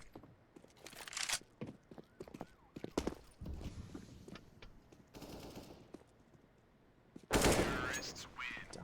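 AK rifle shots in a Counter-Strike match on the Vertigo map ring out as rapid sharp cracks mixed with footsteps and game effects, ending in a loud burst of gunfire.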